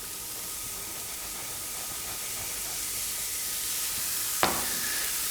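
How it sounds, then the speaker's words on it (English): Steady, close-up sizzling of sliced portobello mushrooms frying in a hot pan, a continuous hiss with a brief clink partway through. "I can hear the sizzle from that. I can hear it sizzling."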